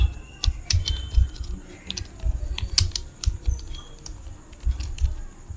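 A shop name is typed into an Excel bill sheet on a computer keyboard, producing a steady run of rapid, close keystroke clicks with no voices.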